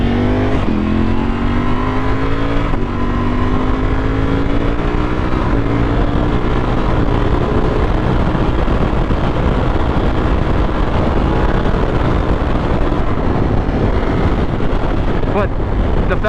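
A Ducati Panigale V4 motorcycle roars steadily at speed while changing lanes, its engine note climbing through gears under heavy wind rush, loud and continuous throughout.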